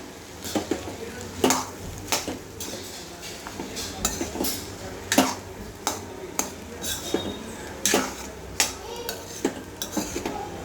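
A spoon scrapes and clinks against a pan as cooked rice is stirred into a tempering for fodnicha bhat, breaking up lumps of chutney. The clanks come in irregular bursts over a faint sizzle, with no talking.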